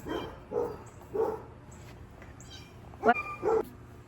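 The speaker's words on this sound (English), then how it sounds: "See, there's those dogs." Several dogs bark in short bursts at a distance, a few sharp woofs spaced out over a few seconds against quiet background.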